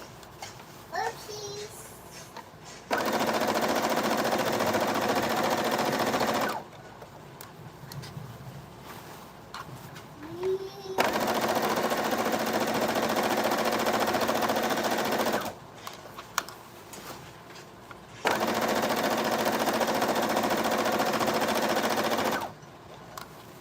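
A sewing machine stitches Ankara fabric in three long, steady whirring runs of several seconds each, loud and close, with quiet pauses between them where the fabric is repositioned.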